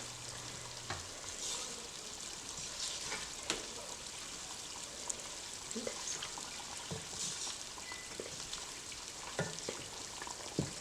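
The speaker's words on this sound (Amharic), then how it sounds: "ይሄው እንግዲህ በደንብ ትክትክ ብሏል።" Ethiopian spiced butter bubbles and crackles in a pot as it clarifies with herbs, a quiet, steady sizzle dotted with soft pops and occasional clicks of stirring, with no voices.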